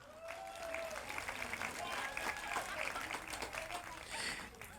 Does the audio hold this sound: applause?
yes